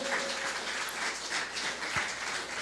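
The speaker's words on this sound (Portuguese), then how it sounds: "eu dava uma linda salva de palmas para Jesus" Sustained applause from a church congregation during a Sunday service fills the space, a dense steady clatter of many hands clapping throughout.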